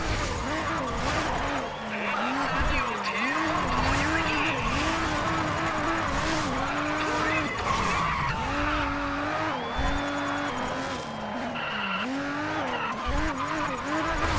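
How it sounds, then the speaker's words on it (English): Race car drifting with tires skidding and squealing in the Race Driver Grid video game, a continuous loud engine drone with wavering squeal throughout, with a voice talking over it. "Try to drift as close as possible to the flag."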